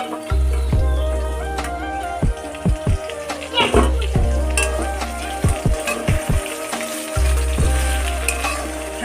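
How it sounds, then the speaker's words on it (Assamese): Pieces of local chicken fry in a pan with close, bubbling sizzle and crackle, punctuated by repeated low thuds and knocks of stirring. "ভাজি হৈ গ'ল"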